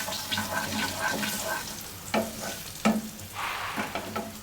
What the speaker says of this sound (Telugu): ఈ పసుపు అంతా ఎర్రపండు మిర్చికి కరివేపాకుకి కలిసేటట్టుగా మనమైతే ఈ పసుపు అనేది వేసుకున్నాం కాబట్టి కలుపుకుందాం